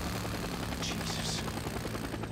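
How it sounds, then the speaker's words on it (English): Helicopter flying in the video game Days Gone, a steady low rotor drone with engine hum running through the whole stretch, moderately loud and continuous with no talk. "No, helicopter."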